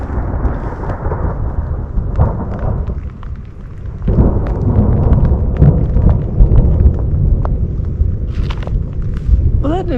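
Thunder rumbles low and heavy during a lightning storm on an exposed ridge, a sustained deep roll that swells partway through, with faint rain and brief voices in the background.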